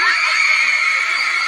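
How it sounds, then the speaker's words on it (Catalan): Hysterical screaming sound effect played on a livestream: a loud, sustained, shrill high-pitched scream that fills the whole moment with no pause. "Gràcies per aquests crits histèrics."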